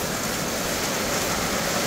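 Rain pouring down outdoors: a continuous, even, full-bodied hiss with no breaks, fairly loud and close.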